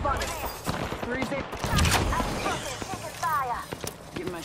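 Rapid bursts of gunfire crackle in Apex Legends, repeated shots layered under voices talking over the action.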